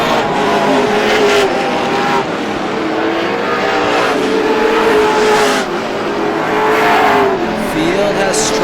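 Race cars circle a quarter-mile speedway in a close, steady roar of engines that rises and swells as the field passes, with a commentator speaking over the continuous racing noise.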